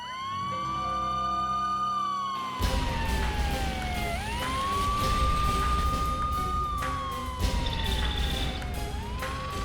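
A fire engine siren wails loudly, rising and falling in long sweeping cycles over the rumble of a heavy vehicle nearby.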